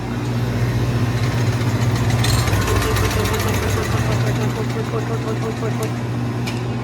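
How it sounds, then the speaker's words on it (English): Steady, loud mechanical hum from a Stoelting soft serve machine, its compressor and pump running close by without a break. "the left side compressor runs the cabinet, so that's why it started"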